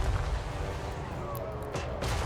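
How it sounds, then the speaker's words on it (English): Artillery fire in Total War: Warhammer 3 during a massive battle against Chaos Dwarfs, a few dull booming shots over a dense, steady roar of battle noise. "The infantry is moving in, and I'm just using my artillery."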